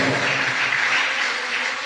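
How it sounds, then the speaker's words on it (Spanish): Congregation clapping during a church service, a dense, even wash of many hands sustained throughout at fairly loud level with no break. "Denle un aplauso fuerte al Señor."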